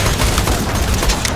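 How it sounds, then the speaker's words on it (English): Dense, continuous barrage of explosions and rapid gunfire in the video game Borderlands 2, loud and chaotic, with booms and crackling shots layered together without pause. "God, there's so many explosions, I can't see anything to shoot at."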